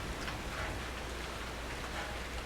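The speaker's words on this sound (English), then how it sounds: "it is literally raining blood" Steady, dense rain pattering evenly on a surface in the video game Outlast II, a constant wash of noise with no voices.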